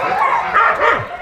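Alaskan Husky sled dogs at a summer sledding kennel in Sweden give excited yips and barks that overlap in a quick, close burst, with a whine mixed in.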